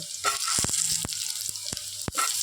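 Potatoes fry in oil for a Bengali drumstick curry with pumpkin, a close hissing sizzle punctuated by several sharp clacks and scrapes of a spoon against the pan.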